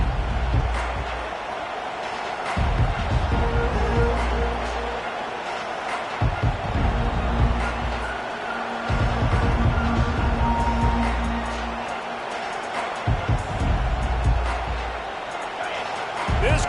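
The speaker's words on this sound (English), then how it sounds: "This crowd bringing the energy and noise early" A college football stadium crowd keeps up a loud, swelling roar with surges of cheering, heard under a commentator's ongoing play-by-play talk.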